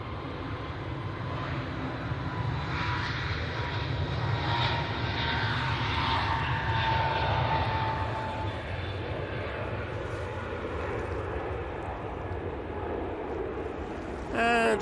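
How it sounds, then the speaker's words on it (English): An EasyJet Airbus A321neo's engines roar steadily at Manchester Airport, a broad sustained rumble with a whining tone that slowly shifts pitch, heard from a moderate distance for the whole stretch. "That is the EasyJet A321 Neo."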